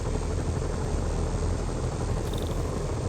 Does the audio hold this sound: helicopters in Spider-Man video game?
yes